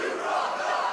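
Wrestling crowd at an Absolute Intense Wrestling event jeering and shouting at Steph DeLander after her chair shot, a dense, loud, continuous roar of many voices filling the arena.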